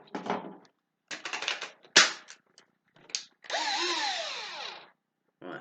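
A cordless drill loaded with stainless steel and kanthal wire whirs in short bursts, with clicks and rattles between them, then one longer spin that winds up and slows down, heard close and alone.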